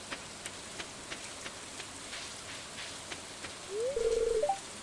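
Steady light rain patters in Stardew Valley, a soft even hiss with scattered drop ticks, joined near the end by a brief rising chirpy tone.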